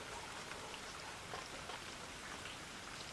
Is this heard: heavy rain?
yes